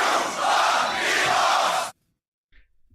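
A beatbox championship livestream crowd shouts together in one loud, massed yell that lasts nearly two seconds and cuts off abruptly, followed by near silence and a few faint sounds.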